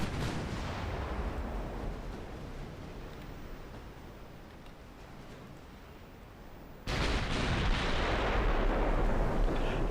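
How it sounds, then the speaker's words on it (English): Naval artillery salvos in the warship game Ultimate Admiral Dreadnoughts, a dense sustained rumble of distant gunfire that fades slightly, then jumps louder as a new salvo erupts and keeps roaring. "Gotta keep unleashing those long-range accurate salvos."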